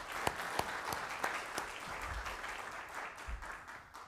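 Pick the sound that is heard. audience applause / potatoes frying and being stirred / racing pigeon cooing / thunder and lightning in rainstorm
audience applause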